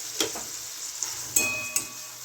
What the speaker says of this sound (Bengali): ডিমটাকে আমি টমেটোর উপরে দিয়ে দিলাম।